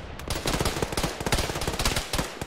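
Dense automatic gunfire in an Arma military game session, with rapid bursts of machine-gun and rifle shots that crackle loudly and almost without pause.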